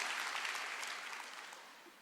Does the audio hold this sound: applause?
yes